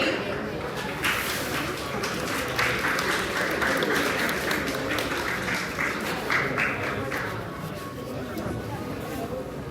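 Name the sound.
applause at award ceremony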